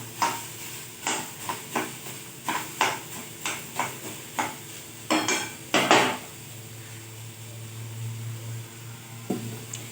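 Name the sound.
onion cooking in a pan with salt, stirring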